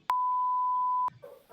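A single pure 1000 Hz sine tone holds steady for about one second, clean and moderately high-pitched, cutting off abruptly before faint sounds follow.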